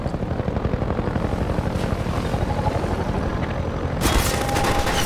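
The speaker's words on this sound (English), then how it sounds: "Helicopter, I swear to God, if I get out of here, I'm gonna find a way to kill you." A helicopter in the video game Half-Life 2 throbs steadily with a fast rotor chop throughout, loud and close, while bursts of gunfire break in toward the end.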